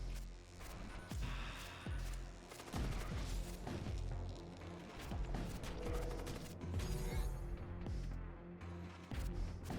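A bombard weapon fires in the video game Void War, a dense, loud barrage of rapid mechanical bursts and booming impacts that rolls on without pause.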